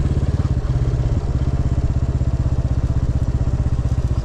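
A Royal Enfield Classic 350 single-cylinder engine thumps loudly and steadily while riding home, a close, even, rapid pulsing beat with a brief throttle change near the start.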